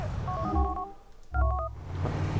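Telephone keypad dialing in GTA IV, two quick bursts of touch-tone beeps separated by a short pause, clear and close over a low background hum.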